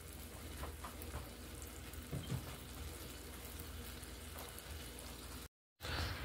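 Cabbage and kale cooking down in a pan for a Sunday roast dinner, a soft continuous sizzle and faint bubbling hiss with occasional stirring clicks, low and steady throughout before a brief cut of silence near the end.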